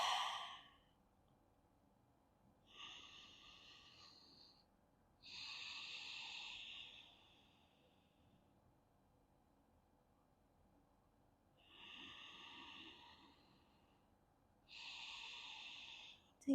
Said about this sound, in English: And breathe deep.